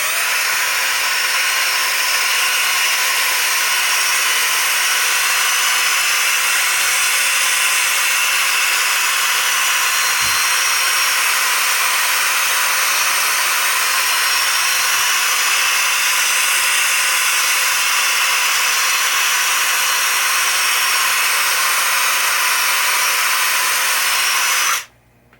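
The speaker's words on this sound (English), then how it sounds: "this is a 12 volt drill." A 12 volt cordless drill spins a polishing pad across a 1973 Williams Travel Time pinball machine, giving a steady, loud, close whine that holds unbroken for the whole stretch before cutting off abruptly at the end.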